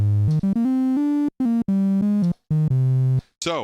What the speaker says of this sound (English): that's how a triangle wave on this synthesizer sound